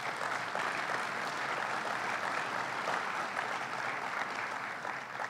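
Steady, dense applause from an audience at a press event on New York's LaGuardia Airport's new gates, continuous and fairly even for several seconds without any voice over it.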